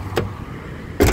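Car door of an Isuzu Panther LV Turbo, 2012, handled in two quick mechanical clunks about a second apart, the second louder, over a steady low background hum, with no speech.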